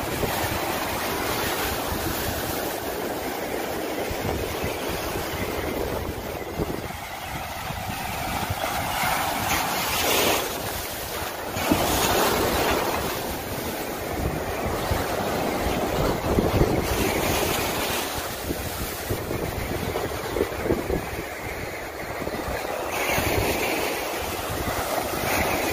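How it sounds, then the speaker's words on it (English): Ocean surf at Island Beach State Park on the New Jersey shore rolls and crashes continuously, close and loud, mixed with wind buffeting the microphone. "That ocean."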